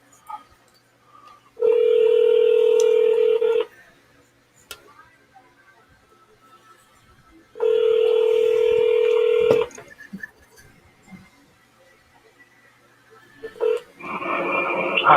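Telephone keypad tones place a call: two long, loud bursts of dialing tone about two seconds each, separated by a quiet gap with faint talk, then a brief third burst with another tone sounding at the end.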